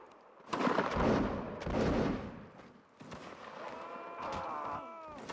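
Musket fire in a Napoleonic-era 1806 Prussian campaign battle video game, a few sharp reports in quick succession with rumbling echoes, followed by a softer ringing tail, moderately distant.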